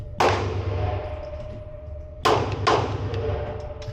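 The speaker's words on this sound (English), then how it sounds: "We're gonna shoot a little higher." Three sharp Ruger Security 9 pistol shots at a shooting range: one shot, then a pause, then two quick shots close together, each with a short ringing tail.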